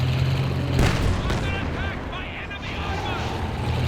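Anti-tank guns fire at a King Tiger in a Company of Heroes 2 battle, with booming shots and battle noise over a steady rumble, while a commentator talks over the action.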